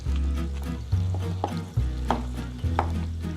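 Garlic and shallot sautéing in grapeseed oil in a pan, a low sizzle beneath a few louder clunks and scrapes of stirring, close by and without speech.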